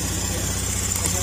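A Honda Beat FI scooter engine, recovering after flooding, idles steadily with a low, even putter and faint mechanical rattle, close by and continuous.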